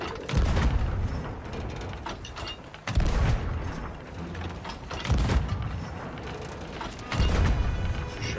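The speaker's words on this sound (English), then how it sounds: "Right side, starboard cannon there." Ship cannons in the pirate video game Sea of Thieves fire in a series of about four heavy booms spaced a couple of seconds apart, each a sharp thump with a rumbling tail over game ambience.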